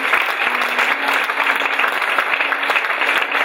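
A church congregation claps loudly in steady, dense applause throughout this short stretch, with a faint low hum underneath.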